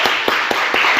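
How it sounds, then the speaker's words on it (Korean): A church congregation claps together during a worship service, giving about five sharp, evenly spaced claps in one second, loud and close, with no talking. "우리 박수!"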